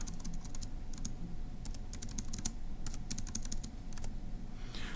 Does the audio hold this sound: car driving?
no